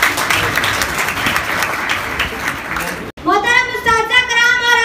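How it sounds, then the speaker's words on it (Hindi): Crowd applause at a school speech competition for Allama Iqbal Day, steady loud clapping from a large audience of students for a student speaker, broken by a brief cut before a voice begins speaking over fading claps. "रेशमा, भरपूर तालियों में"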